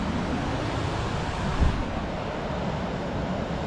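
Surf waves washing onto a beach at Oceanside, California, a steady broadband roar of water and wind with one brief heavier surge midway, close and continuous.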